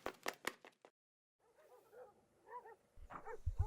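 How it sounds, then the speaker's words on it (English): Dogs bark in a rapid burst of several loud, close yelps, then fall silent; softer whining barks follow and build into more barking near the end. "Those dogs."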